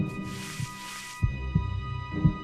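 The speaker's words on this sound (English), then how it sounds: "You'll clearly hear your heart beating," A human heart beats in slow, regular low thumps, each spaced roughly a beat apart, heard up close over a faint steady hum in an otherwise quiet space.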